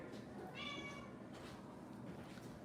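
A house cat gives a single short, faint meow near the start, followed by quiet room background without speech.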